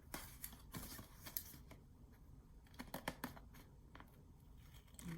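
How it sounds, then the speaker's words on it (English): Scissors snip through the paper of a handmade folder album, a run of crisp, quick cuts at close range, some sharp and some softer, spread unevenly with short pauses and no talking. "I'm gonna trim in between here so they don't rub together when you fold."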